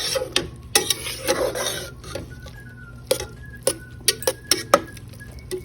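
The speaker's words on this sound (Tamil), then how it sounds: "நல்லா 4 பக்கமும் நல்லா கலக்கி விடுங்க" Spoon stirring and scraping through cooked dal rice inside a pressure cooker, a series of sharp metallic clinks and taps at an uneven rhythm, close and moderately quiet, with no talk.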